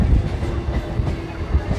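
Local train running on the Ranaghat to Bongaon line, a brief close rumble of carriage and wheels with faint rhythmic clatter and wind noise.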